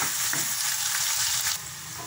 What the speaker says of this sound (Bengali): শুটকিটা দিয়ে কিছুক্ষণ আমি নাড়াচাড়া করব।